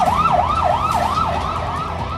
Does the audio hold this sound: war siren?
yes